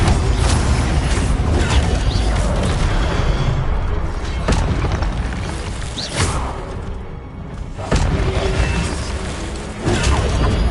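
The Incendio fire spell in Hogwarts Legacy erupts with loud, rumbling whooshes and booming bursts, repeated several times over a dense roar of game effects.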